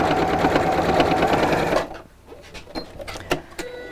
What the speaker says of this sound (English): So that would be machine sewing the same way if you were going around the flap like that.